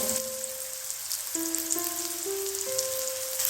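Seven or eight curry leaves hit hot oil in a pan and give a steady, close frying sizzle for a few seconds, with musical tones running alongside.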